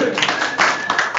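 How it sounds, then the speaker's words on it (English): Applause at the 2020 WA Architecture Awards, a livestreamed ceremony: a short, dense burst of clapping running steadily throughout, fairly loud with some voice-like sound mixed in. "Yes, you deserve some applause."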